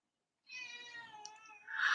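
A cat gives one clear, drawn-out meow nearby, with a rising harmonic cry that swells louder at the end, alone in an otherwise quiet room.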